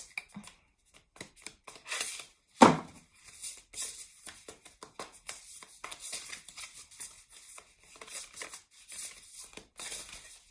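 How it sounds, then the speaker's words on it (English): A deck of tarot cards is shuffled by hand in irregular riffling and slapping bursts, close and fairly quiet, with one sharper knock partway through and no talking. "Jalicia, I keep shuffling"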